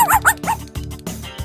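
Small dog giving a few quick yips and soft whimpers in bursts, close and fairly loud, with brief pauses between the cries.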